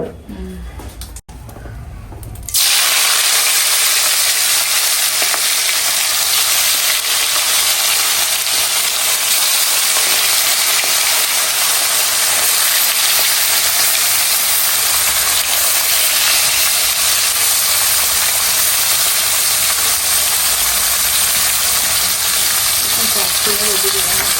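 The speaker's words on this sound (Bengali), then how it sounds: "এটা এখন ভাজা হবে রান্না হবে আর কি" Pieces of mrigal fish dropped into hot oil, a sudden loud, even sizzle that starts after a short pause and runs unbroken, with a voice now and then underneath.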